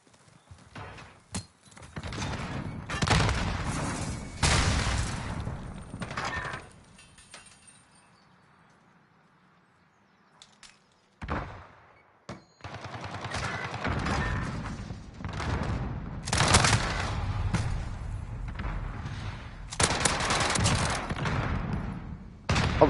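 SMG fire in Modern Warfare 2019, several loud bursts of rapid automatic shots separated by quieter gaps, including a long lull near the middle, close and without talk.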